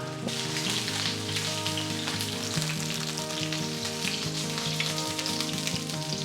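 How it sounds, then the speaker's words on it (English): Chicken thighs sizzle steadily skin-down in a hot frying pan, a constant crackling hiss with a faint low hum underneath. "place our chicken thighs into the frying pan"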